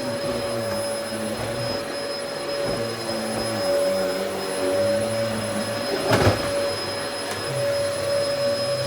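A Dyson or Henry vacuum cleaner runs on bedroom carpet with a steady droning whine and a brief louder burst partway through.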